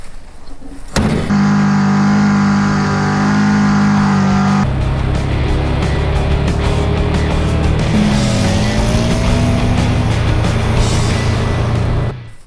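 A 1974 Volkswagen Thing fitted with a 550 CFM carburetor starts up and drives off, the engine revving loud and near, with shifting pitch as it pulls away and cruises.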